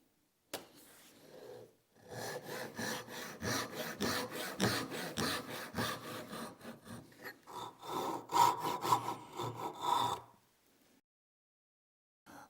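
A hand saw cuts dovetail kerfs in wood for half-blind dovetails, a close, steady run of rasping back-and-forth strokes lasting several seconds, starting after a brief knock and stopping abruptly into quiet.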